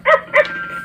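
A toy dog from the Peeing Pup game gives two quick, bright electronic barks close up, followed by a brief thin tone.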